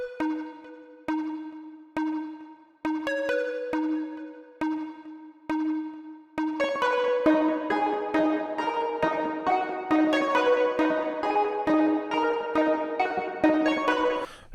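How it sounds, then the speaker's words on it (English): An aggressive, flute-like synth arpeggio built in FL Studio for a trap-style beat: sparse repeated plucked notes at a steady pulse, then a denser, louder run of layered notes from about six seconds on, with no voices. "It's a little bit more aggressive and also has kind of like a, almost like a flutish type sound to it."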